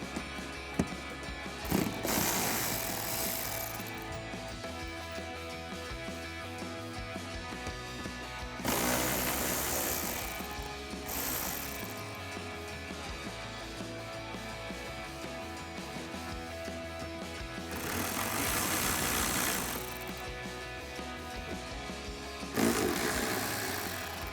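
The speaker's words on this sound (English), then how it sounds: "we'll grab a 7mm socket and take these out." A ratchet with a 7mm socket backs bolts out of the inner lip of a 2021-2023 Ford F-150 fender during a fender flare install, in several separate bursts of ratcheting with quieter pauses between.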